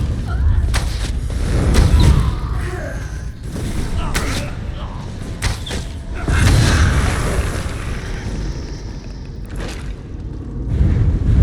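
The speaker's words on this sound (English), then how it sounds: "Someone's shooting at me though." Gunfire in Elder Scrolls Online aimed at the player, with repeated booming shots and bursts scattered through a busy battle soundscape, with a voice talking over parts of it.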